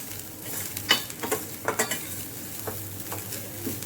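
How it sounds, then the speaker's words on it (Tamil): Papaya ladoo ingredients dry-fried in a pan with no oil, giving a soft background sizzle broken by repeated sharp scraping and tapping strokes of a utensil against the pan, close and clear with no talking. "எண்ணெய் ஊற்றாமல் எதுவுமே போடாமல் நல்லா ஃப்ரை பண்ணி எடுத்துக்கோங்க"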